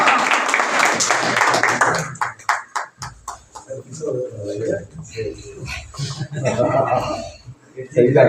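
Applause from the audience at a Punjabi mushaira in Jhang greets a poet: a dense burst of clapping for about two seconds, then scattered claps fading out under a voice speaking.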